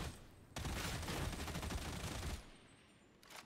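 Sustained burst of automatic gunfire from a weapon in the video game Warhammer 40K: Darktide, a dense rapid rattle lasting about two seconds before cutting off, followed by a quieter tail and a brief noise.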